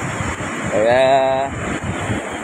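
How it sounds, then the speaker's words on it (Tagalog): Sea waves still running high after a typhoon on a windy shoreline, a steady close wash with wind rumble throughout and a brief tonal hum in the middle, no voices. "Ang alon, medyo malalaki pa."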